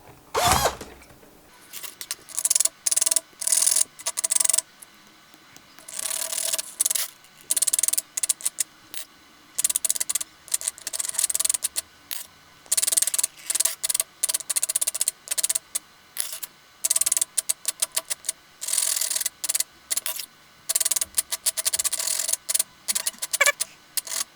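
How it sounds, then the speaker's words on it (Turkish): A drill with an 8 mm bit whirs through a 3D-printed quadcopter part in many short, rapid bursts with brief pauses between, grinding steadily at close range with no talking. "Şimdi bunu 8 mm'lik bir matkapla delerek gidereceğim."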